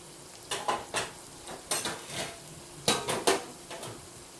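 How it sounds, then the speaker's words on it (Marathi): Homemade masala and garam masala are sautéed in a pan for chinchakadi rice, with a spatula clinking and scraping against the metal in repeated irregular strokes, fairly close and loud over a faint background sizzle. "हे व्यवस्थित परतून घेऊया."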